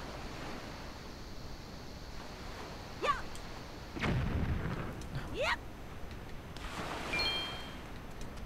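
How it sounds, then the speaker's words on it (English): Bombs bursting in The Legend of Zelda: The Wind Waker, a few faint, scattered explosions at moderate distance over steady ocean surf and wind, with no talking. "So we need to throw the bombs."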